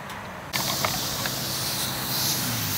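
Compressed air blasting from an air compressor's blow nozzle at about 100 psi tank pressure: a sudden loud, steady hiss that starts after a short quieter moment and holds without letup, no talking.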